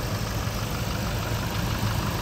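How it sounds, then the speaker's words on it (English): A 2018 Toyota Hilux 2.4 D4D Euro 6 diesel idles steadily under the open bonnet, with an even, close, low rumble and a fine rhythmic diesel clatter and no voices. "As you can hear, she ticks over nicely."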